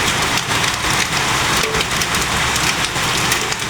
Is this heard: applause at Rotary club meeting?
no